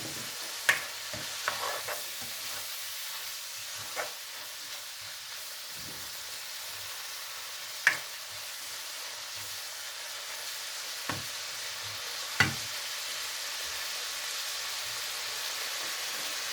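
Seafood frying in a pan for a seafood risotto makes a steady hissing sizzle, with a few sharp clicks of a utensil touching the pan now and then, close and alone.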